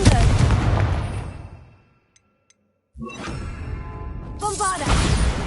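Blasting-spell bursts in a fantasy video game: a loud roaring blast fades out, a brief near-silence follows, then another heavy explosive surge with whooshing crackle returns.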